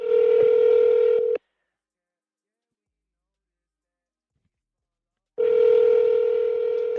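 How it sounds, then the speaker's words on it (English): Telephone ringback on a live call: two loud, steady tone bursts about four seconds apart, separated by silence, heard close and clear. "Answer the phone, Mrs. Bruce."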